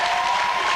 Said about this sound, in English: Start the clapping right now.